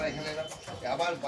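A Delhi-breed pigeon cooing close by in a short burst of soft, low, rolling coos, with voices talking over it.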